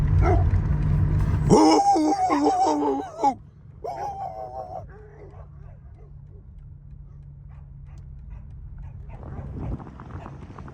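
Several dogs bark in a short, excited burst near a car on the road, followed by a few fainter yips and whimpers over a low engine rumble; voices talk nearby.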